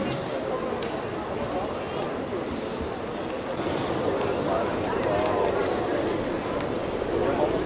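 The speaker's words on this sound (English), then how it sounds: "Something they don't show you in the Batu Caves is that there's a lot of pigeons here." Pigeons coo among a crowd at the Batu Caves cave temple in Malaysia, a soft, continuous murmur of birds and people, with voices talking over it throughout.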